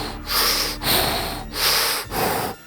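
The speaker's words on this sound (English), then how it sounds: "after the credits were over, you hear Michael Myers breathing through his mask" Michael Myers breathes heavily through his mask in a Halloween film, four slow, loud, hissing breaths in steady rhythm, close and alone.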